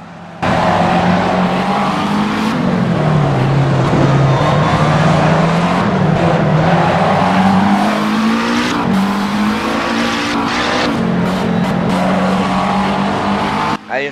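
A race car drifting in the Assetto Corsa driving simulator: a loud, continuous engine drone with wavering pitch and tire squeal held throughout, with a few sharp transients near the end and no speech.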